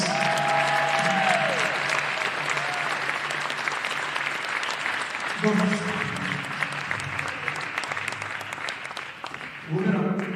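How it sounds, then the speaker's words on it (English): Crowd applause fills a gym on basketball senior night, honoring five seniors after a men's college game, MNU versus Benedictine; the steady clapping swells and eases over about ten seconds, with a voice and brief low tones mixed in. "How about one more round of applause for our 5 seniors?"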